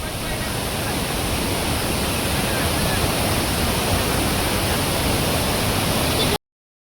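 A large waterfall at Savatkada in Konkan roars as dense, continuous broadband rushing, close and loud. It stops abruptly just before the end.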